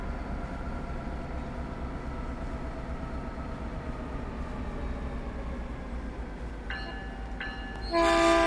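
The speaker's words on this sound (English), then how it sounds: "We'll just toot the horn just so that everybody in Millbrae knows we're here." A BART train's horn sounds two short toots near the end as it arrives at Millbrae station, over the steady loud rumble of the train braking out of the underground section.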